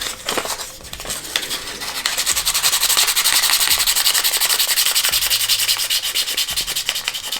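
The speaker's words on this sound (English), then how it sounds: "Let's get that all good and sanded clean like so." Sandpaper rubbed back and forth over a surface to rough it up clean, a steady, close, continuous scratchy rasp with quick repeated strokes and no talk.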